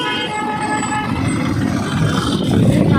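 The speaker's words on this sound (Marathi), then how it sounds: "त्या दिवशी पण ट्रॅफिक आहे" Traffic rumbles on the road toward Vashi, with engines droning close by and a sustained, tooting horn sounding early on, the noise growing louder toward the end.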